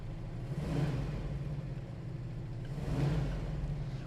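A 1970 Plymouth Cuda's 440 U-code V8 runs close by after a fresh start, a steady low rumble that swells in two brief revs, one early and one near the end, with no voices.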